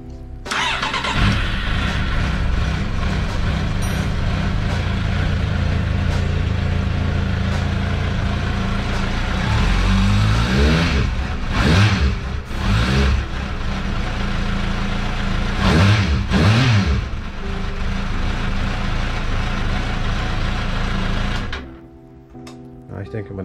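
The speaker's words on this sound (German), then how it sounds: "Bevor ich den tausche, lasse ich noch mal ein letztes Mal den Auspuff klingen." Kawasaki Z750 (2003-06) motorcycle with a Mivv GP exhaust, idling with a loud, rough burble, then revved hard in several sharp blips that rise and fall before the engine cuts off.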